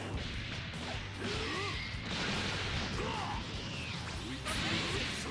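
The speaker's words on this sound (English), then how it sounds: "that's that explosion thing" An explosion attack in Dragon Ball FighterZ story mode produces quiet crashing bursts and whooshing energy sweeps that rise and fall over a few seconds, set against a steady game soundtrack.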